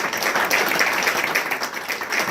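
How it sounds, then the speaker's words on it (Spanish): During a church service, a congregation claps together in a steady, full burst, a brief, loud wash of hands with no talking over it. "Give Him a great clap offering."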